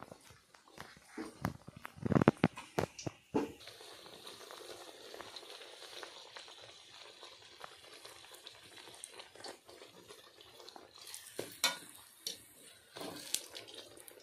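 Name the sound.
frying kochuri (pea-filled puri) in hot white oil in a wok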